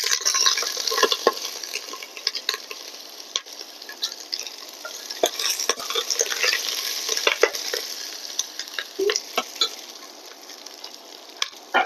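Chopped onion sizzles in a pan for khichuri, a steady frying crackle broken by scraping stirs and occasional clinks of a utensil, heard up close with no talking.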